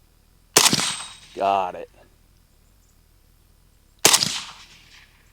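Two loud, sharp gunshots from a Bulgarian 5.56 RPK rifle crack close by several seconds apart, each with a short decaying echo, and someone speaks briefly between them.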